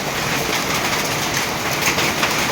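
The year's first rain, arriving with hail, roars as a dense, steady wash of broadband hiss and patter, loud and continuous throughout with no voices.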